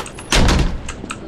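A video game door swings shut in one solid, close thud with a brief rattle after it, preceded by faint ambient hum and no voices.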